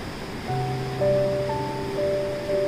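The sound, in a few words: Ganga river flowing fast at Gangotri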